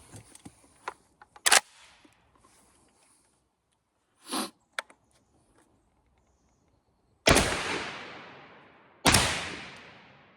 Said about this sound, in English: first shots I've had with the Century Arms C308, just 2 rounds of Tula